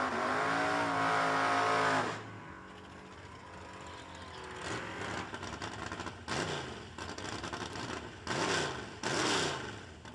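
A drag racing car at a no-delay nationals event runs a loud engine drone that cuts off, then surges in and out of the throttle in repeated revving bursts, heard from some distance.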